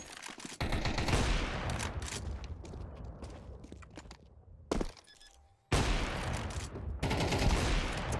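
Video game gunfire comes in loud, dense bursts of rapid shots with short gaps and a brief quiet stretch, close and alone without talk.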